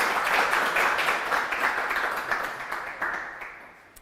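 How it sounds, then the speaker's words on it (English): An audience at a university admissions event claps for a student, a brisk burst of applause that gradually fades over a few seconds. "Yeah, we can clap for Shusha"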